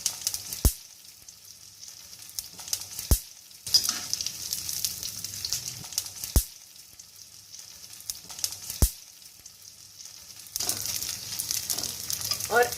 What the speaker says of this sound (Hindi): इसको हमने घी में इस तरह से तल लिया है